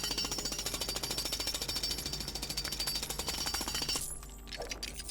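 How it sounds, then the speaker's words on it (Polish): Pneumatic jackhammer in the Lego Batman 3 video game, hammering loud and continuous in a fast rapid-fire rhythm for about four seconds before cutting off abruptly, leaving faint game ambience. "Swoim młotem pneumatycznym."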